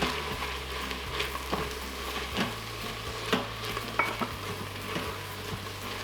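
A spoon scrapes and stirs through vegan Irish stew with tomato paste in a pot, soft irregular strokes over a steady sizzle from the pan.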